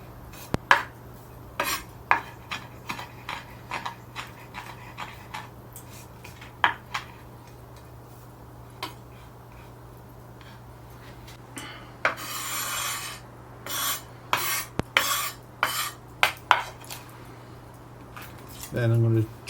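A knife chopping fresh thyme and rosemary on a board, rhythmic sharp taps in short runs with scraping and rubbing between them, while a person talks throughout.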